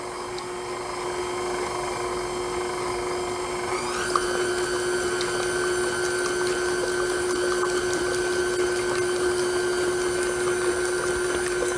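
Stand mixer fitted with a paddle blade steadily stirring pumpkin bread batter with cranberries and pecans, a continuous close motor whine that shifts up in pitch partway through and keeps running alone.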